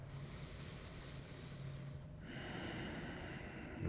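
A slow, deep yoga breath: a long, soft nasal exhale hisses up close, then a fuller, louder breath follows, with no talking.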